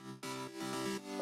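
A layered piano and synth chord, with the filter cutoff raised, rings out in three or four sustained stabs, loud and close with no voices.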